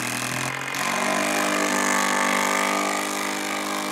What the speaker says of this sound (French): Moi, donc j'ai une visseuse. Perceuse visseuse.